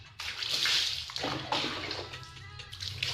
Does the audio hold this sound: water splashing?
yes